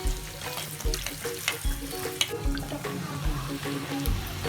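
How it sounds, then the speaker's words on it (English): Steady crackling sizzle of bhatura dough frying in hot oil, with occasional low thumps and clatters of a utensil near at hand. "Frying our bhaturas in nice and hot oil"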